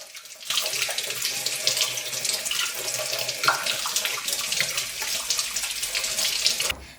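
Water pours steadily into a pot in a continuous close splashing stream for several seconds, then stops abruptly.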